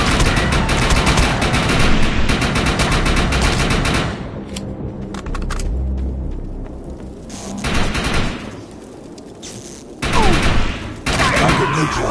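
Rapid bursts of automatic gunfire from primary and secondary weapons in the video game Defiance 2050, dense fusillades broken by short pauses and single shots, with in-game sound effects between bursts.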